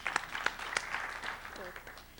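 Audience clapping at an international development conference, a soft, steady patter of hands with a few sharper claps early on, heard faintly from a distance with a voice speaking over it near the end.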